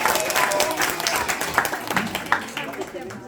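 An audience at a devotional group gathering gives a round of applause, a steady wash of clapping with a few sharper claps standing out, while voices carry through underneath.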